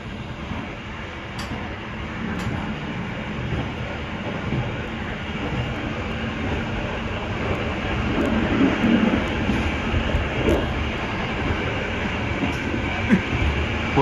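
An Indonesian passenger train hauled by two locomotives rolls past, a steady loud rumble that swells toward the end, with occasional sharp clicks and clanks over the wheel noise.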